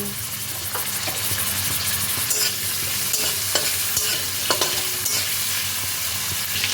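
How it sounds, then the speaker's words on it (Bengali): Prawns frying lightly in hot oil for mixed fried rice, a dense steady sizzle with repeated spatula scrapes and clicks against the pan, close and loud. "এবার আমি ওই তেলের মধ্যেই দিয়ে দিচ্ছি চিংড়ি মাছগুলো। চিংড়ি মাছগুলোকেও হালকাভাবে ভেজে নেব।"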